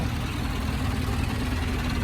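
A Ford tractor engine idles steadily and close by, a continuous low rumble with no break or change in pace.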